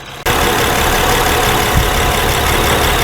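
A 2011 Honda Pilot with a surging fault idles steadily and loudly close by after a brief quiet start, with a rough, even engine drone and a faint bump partway through.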